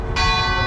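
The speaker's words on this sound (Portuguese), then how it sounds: "pelo balalar dos sinos aqui na igreja de São Walter" Church bells ring out at São Walter church in the historic centre of Guimarães, Portugal, a sustained, rich metallic peal with many ringing overtones that swells in loudly after a brief moment and holds steady, with no talking.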